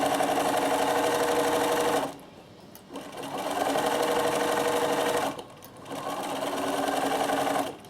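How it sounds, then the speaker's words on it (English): A sewing machine stitches ribbons together, running in two long steady bursts with a brief pause between them. The motor's whirring hum is close and loud, and no one speaks. "while you're stitching, and the machine will do all the work."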